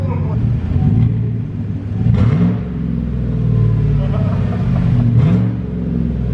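A straight-piped 2014 Chevy Silverado exhaust revs with a deep, loud rumble close by, swelling in a few brief blips over a steady idle. A voice talks underneath.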